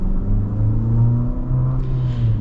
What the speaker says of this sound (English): being a 2-liter 4-cylinder, there is a bit of turbo lag